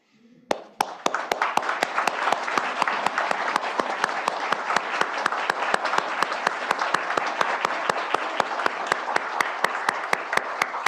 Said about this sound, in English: would you stand up so we can just give you another round of applause, because we love you.